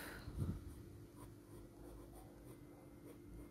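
An F graphite pencil works over paper while shading dark short fur, giving faint, close scratchy strokes in a soft, uneven rhythm against a quiet room.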